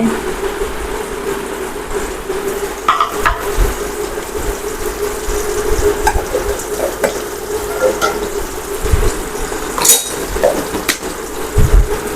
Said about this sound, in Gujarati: હજી થોડીક વાર આપણે તેલમાં સાતળી લેવા પડશે, જેથી કરી અને ભીંડા બરાબર ચડી જાય